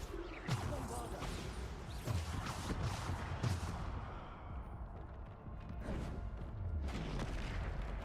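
Bombarda spell blasts in Hogwarts Legacy land as several muffled booms and crashes amid ongoing spell combat, moderately loud with brief gaps between impacts.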